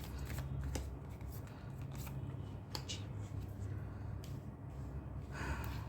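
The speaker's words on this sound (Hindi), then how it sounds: "एक कार्ड और ले लेते हैं" Tarot cards being shuffled and drawn by hand, a steady soft papery riffling and rustle that runs throughout at close range, quiet and without talk.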